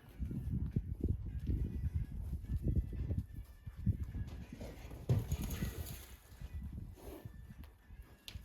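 A mare's hooves clip-clop in a steady walking rhythm over ground, fairly close, with light background noise and no talk.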